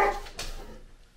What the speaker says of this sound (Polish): O, a żeś mi szczekła.